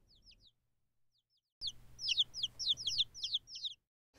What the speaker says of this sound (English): Good night, baby chickens.